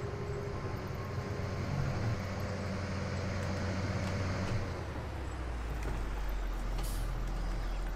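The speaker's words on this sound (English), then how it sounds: "So we've still got that brake sound," In Farming Simulator 19, a heavy truck rumbles at a low, steady idle. Near the end comes a hiss like an air brake releasing over a deep, sustained drone.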